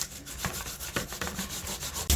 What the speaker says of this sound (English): Grate it into a paste like this.